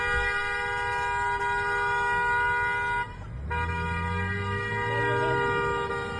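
Car horn honking at federal agents during a street protest, one long steady tonal blast that breaks briefly and then resumes, with low engine rumble and a faint voice underneath.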